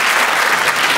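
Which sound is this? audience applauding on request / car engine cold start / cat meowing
audience applauding on request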